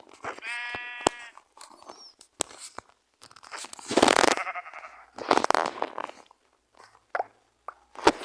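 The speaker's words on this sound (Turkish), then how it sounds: "Koyun gördüm orada." A sheep bleats several times nearby, wavering cries separated by pauses, with some scattered crunching noises in between.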